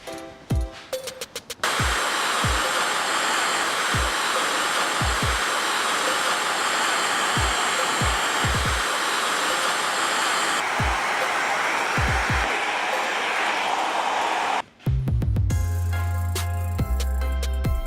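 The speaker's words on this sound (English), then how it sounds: "I'll finish blow drying his hair, brushing it into the direction that I want." A handheld blow dryer roars steadily at close range for about thirteen seconds, drying and styling a man's freshly cut skin drop fade with a comb-over on top. Soft low knocks from handling come through the airflow, and brief clatter follows when it stops. No one speaks.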